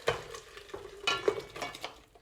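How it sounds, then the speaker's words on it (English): Braised pork ribs and their sauce poured from a hot pan into a pressure cooker, with wet sloshing, sizzling and a few soft scrapes over about two seconds, close and fairly quiet, no talking. "Just pour everything in."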